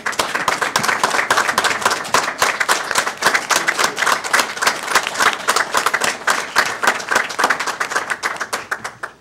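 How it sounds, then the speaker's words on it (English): Council chamber audience rising to applaud retiring city staff, a dense, steady burst of many hands clapping, loud and close for about nine seconds before tapering off at the end. "if everyone in the chambers would, please rise and give a round of applause"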